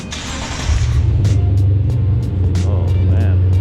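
A Lexus RC F at a shipping yard fires up and settles into a deep, steady idle rumble, loud and close, with faint clanks and voices in the background.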